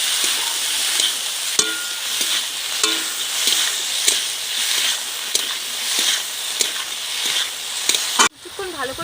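Fish curry ingredients being sautéed in a pan, a loud continuous sizzle broken by repeated clacks of a spatula stirring, with a sharp change near the end.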